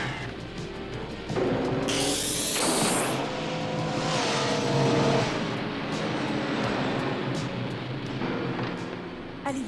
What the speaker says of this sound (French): L'hydroglisseur, Zoom.